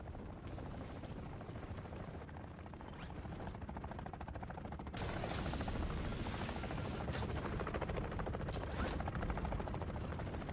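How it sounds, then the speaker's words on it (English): Helicopter in a Call of Duty MW3 Zombies game, a steady loud rotor drone running throughout, growing heavier and closer halfway through, with faint gunfire mixed into the din. "Imagine that helo killing me."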